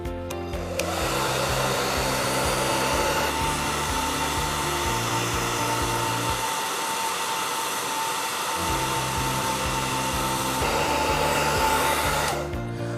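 A hair dryer blows steadily and loudly with a constant whine, two balls floating in its airstream in a Magnus effect demonstration; the airflow drops out briefly midway then resumes.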